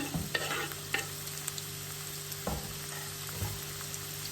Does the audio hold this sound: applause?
no